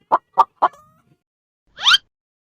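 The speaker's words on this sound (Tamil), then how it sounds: "hen, கோழி." A hen on a farm gives three short, evenly spaced clucks, then after a pause a single louder, rising squawk, all close and clear against silence.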